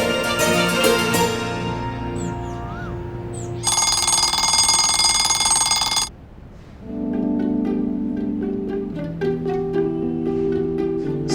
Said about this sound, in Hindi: इतनी सुबह का अलार्म क्यों लगाया भाई?